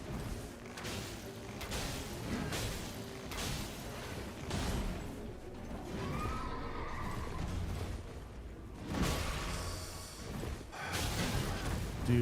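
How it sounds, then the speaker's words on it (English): A summoned horse in a video game whinnies loudly and clearly near the mic, and hoof thuds and snorts come and go alongside it over the whole stretch, with no talk heard. "you can summon the horse back?"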